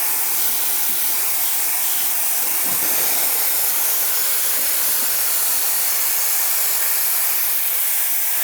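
Steam wand on a La Marzocco Linea Mini or El Rocio Zarre espresso machine, a loud, steady, broadband hiss of steam running unbroken from start to finish.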